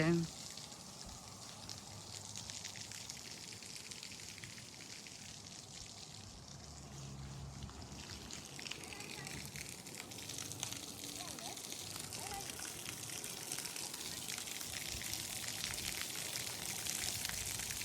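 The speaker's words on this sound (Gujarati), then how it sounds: "તમે આ બટન પ્રેસ કરો એટલે પાણી ચાલુ થાય" Water sprays steadily from a button-activated fountain at a splash pad playground with slides and swings, a broad continuous hiss running the whole time with faint voices mixed in.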